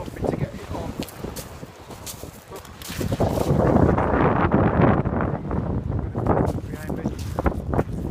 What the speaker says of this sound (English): Behind me, probably a bit windy, I guess it is